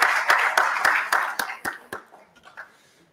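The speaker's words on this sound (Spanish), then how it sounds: "Un aplauso, por favor, al equipo y a todos los que estén involucrados en el desarrollo del estudio." A crowd at a study launch event claps: a burst of overlapping handclaps that thins into a few scattered claps and fades out within about three seconds.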